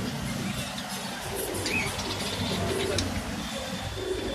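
Pigeons kept together in a group coo softly in a few low, throaty calls, close by over a faint background hum.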